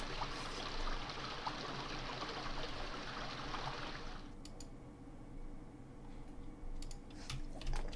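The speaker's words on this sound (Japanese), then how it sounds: "で、なんか水の音するけど。" Water streams and trickles steadily through a forest in a horror video game, a continuous broadband wash that thins partway through, leaving faint drips and small ticks alone without talk.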